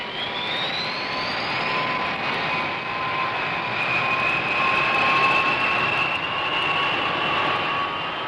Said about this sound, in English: Everything ready, the B-52s taxi out and are soon on their way